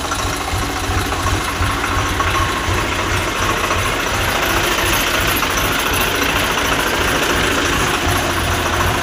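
A Swaraj 735 tractor engine idles in a loud, steady diesel chug. The even, rapid knocking pulse holds unchanged for the whole stretch, close by and with no voices.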